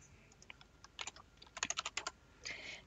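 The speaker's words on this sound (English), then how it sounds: "Then we type the last name, which is Jane's." Typing on a computer keyboard while entering text into a Microsoft Word document: a quick, uneven run of close, crisp key taps, with a faster burst near the end. No voice is heard.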